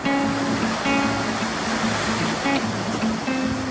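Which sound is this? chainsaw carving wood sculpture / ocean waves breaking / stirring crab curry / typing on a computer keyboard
ocean waves breaking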